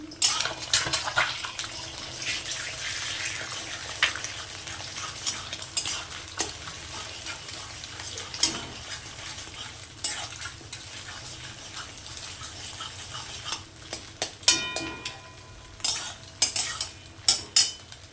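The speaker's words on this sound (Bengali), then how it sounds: "কড়াইতে আমি তেল দিয়ে দিয়েছি, এবার ডিমগুলোকে ভেঙে ভুজিয়াটা বানাবো।" Six eggs scrambled in hot oil in a wok (kadai) for egg bhujia: steady frying hiss with repeated close scraping and clinking of a metal spatula against the pan, without talk.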